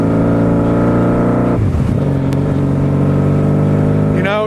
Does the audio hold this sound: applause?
no